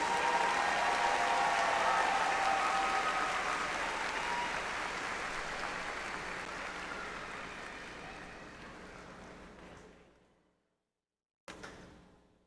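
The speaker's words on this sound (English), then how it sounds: "let's extend another round of applause for our doctoral graduates" A large crowd applauds doctoral graduates at a spring commencement ceremony, with loud, dense clapping that gradually fades and stops, followed by a brief final burst.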